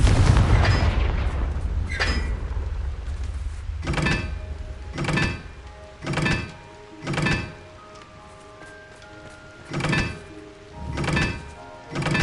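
Confringo explosion spells blast in the Hogwarts Legacy video game, a sequence of deep booming thuds arriving at steady, roughly one-second intervals, loud and close with short echoing tails.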